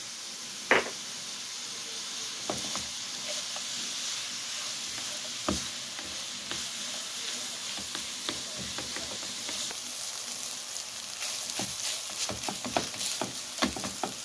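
Carrots sizzling in half a cup of vegetable oil in a frying pan, a steady close hiss with scattered pops and clicks of stirring throughout, no talking.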